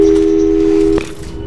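A steady telephone tone holds for about a second in Portal 2, then cuts off abruptly, leaving a faint hum behind.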